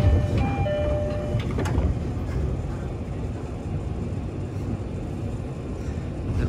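A train at Shimoyoshida station in Japan gives a loud, steady low rumble with a few brief tonal squeals early on, the noise holding throughout without speech.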